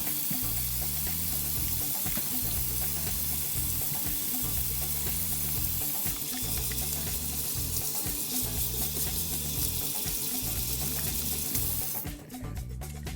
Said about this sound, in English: what I'm going to do right now is wash my hands